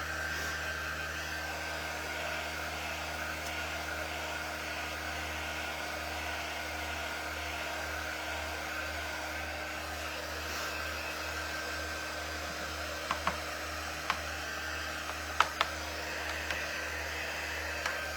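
A hair dryer blows steadily to dry dune texture paste on a watercolor bunny basket craft, a continuous close whir holding even for the whole stretch with a few faint clicks near the end.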